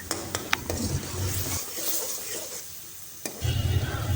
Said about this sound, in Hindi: यहाँ मसाला भुनने की बहुत अच्छी खुशबू आ रही है